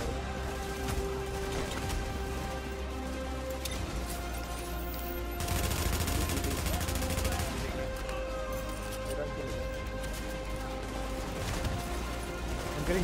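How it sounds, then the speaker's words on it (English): Video game gunfire in The Division's dark zone crackles in dense, overlapping bursts from several directions, with a louder stretch of shooting midway, while voices talk over the fight. "I'm getting shot at from left, right, and center."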